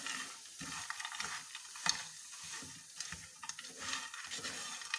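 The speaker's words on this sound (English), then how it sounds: "Now give a good stir." Stirring dried fruits in a pan over a low to medium flame, with repeated scraping strokes and a light sizzle under them, close and fairly quiet.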